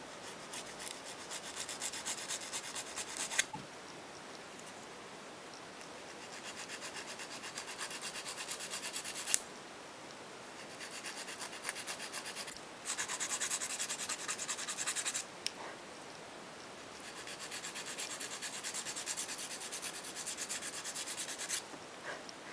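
Nail file rasping a glued-on false nail tip to shape it, short bursts of dry scratchy rubbing alternating with brief pauses, close and fairly quiet.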